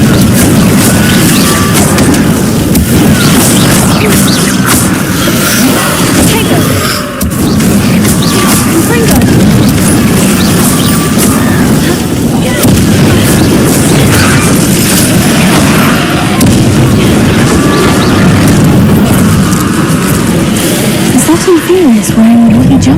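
A Confringo spell explosion in Hogwarts Legacy bursts as a dense, loud booming roar that stays heavy and continuous for the whole stretch, mixed with rumbling game effects.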